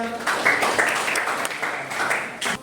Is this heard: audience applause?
yes